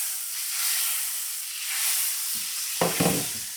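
Butter hissing and sizzling in a hot pan for garlic shrimp fettuccine Alfredo, a loud, steady close-up sizzle with a few sharper crackles near the end and no voices.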